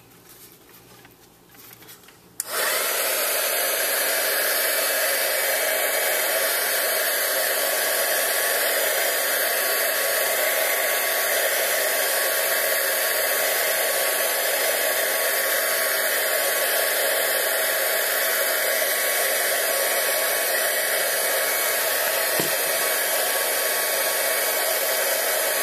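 Craft heat tool blowing hot air over a mixed-media embellishment held in tweezers, switching on after a short quiet moment, then a steady loud whooshing roar that runs on unbroken.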